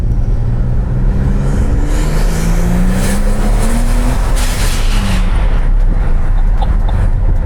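A Ford XR6 Turbo revs hard on a dyno, a loud continuous engine roar with rising and falling tones as it pulls through the gears, steady and close throughout.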